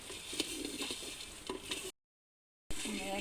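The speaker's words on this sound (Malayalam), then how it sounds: "അത്രയും കാപ്പിക്കുരു ഉണ്ടായിരുന്നു ചട്ടിയിലിട്ടൊന്ന് വറുത്ത് പൊടിച്ച് നോക്കാം നമുക്ക്" Dry crackling and rustling of coffee beans stirred and roasting in a hot pan, a steady close texture, briefly cut to silence before resuming.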